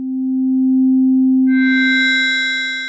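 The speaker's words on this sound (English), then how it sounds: "You see we revert to a normal sine wave here." A Make Noise tELHARMONIC synthesizer plays a steady plain sine-wave note around middle C, a clean sustained tone with a softer bright overtone layer entering halfway through, alone and at moderate volume.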